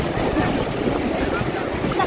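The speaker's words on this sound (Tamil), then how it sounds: "என்ன மாதிரி கடல் அடிக்கிறாளே" Sea waves wash steadily onto a beach in a continuous loud roar with wind buffeting the microphone, and people talk faintly underneath.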